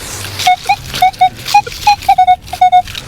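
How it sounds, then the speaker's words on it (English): A metal detector, swept over a field in search of old coins, gives a run of about a dozen short, clear electronic beeps. Many come in quick pairs, with brief gaps and faint rustling between them. "Oh, double beeping, I think we might be out."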